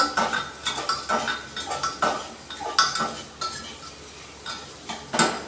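A spoon stirs onions in a cooking pot for a Bengali potato-and-onion curry. It makes repeated scraping, clinking strokes against the metal in an irregular rhythm over a faint sizzle, close and clear.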